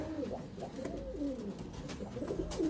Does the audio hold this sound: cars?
no